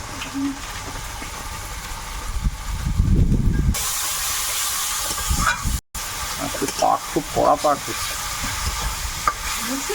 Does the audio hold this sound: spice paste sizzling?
yes